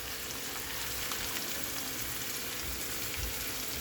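Food fries in ghee in a pan, giving a soft, even, continuous sizzle like light rain, low in level with no talk.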